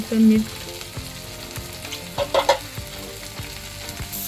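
Green chilies roasting with onions in a pan over low heat, giving a steady close sizzle broken by several sharp stirring clatters and scrapes.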